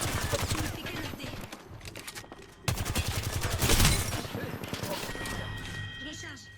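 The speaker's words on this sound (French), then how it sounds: "Je me fais canarder." Bursts of automatic gunfire in the battle royale game Apex Legends, rapid shots with a loud surge partway through, heard under someone speaking French.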